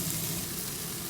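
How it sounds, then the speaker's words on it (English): Steady, close sizzling of meat and onions frying in a pan, a constant hiss with no talking. "that's all sizzling down nicely"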